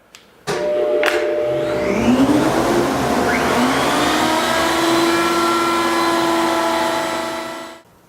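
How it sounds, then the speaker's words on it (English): A router on a router table spins up with a couple of sharp knocks, then a loud steady high whine as it cuts a deeper mortise into wood, holding for several seconds before winding down at the end. "I'm back at the router table, and all I have to do now is increase the depth of that mortise"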